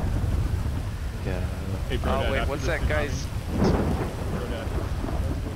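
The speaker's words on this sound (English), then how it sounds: "It is starting to rain." Rain falls steadily outdoors with a low rumble of thunder, while several people talk and call out over it.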